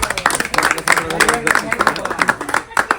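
Fans clap together at a birthday celebration held at a hotel, a steady run of close hand claps mixed with chatter and voices talking throughout.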